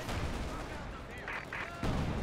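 Gunfire and artillery from a Company of Heroes 2 multiplayer battle on Hill 400 rumble at a distance as a dense, low, continuous barrage, with a few sharper bursts breaking through near the end.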